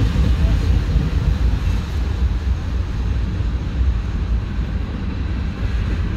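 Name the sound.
CSX manifest freight train passing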